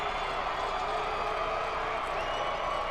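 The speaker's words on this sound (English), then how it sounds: "Bruin crowd on their feet. That's the loudest you hear a Bruin crowd ever." Bruin football fans on their feet roar in a steady, dense crowd swell at a high school game, Pulaski Academy versus Parkview, a continuous wash of cheering and clapping with no break.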